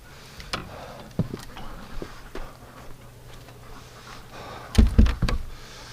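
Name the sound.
door closing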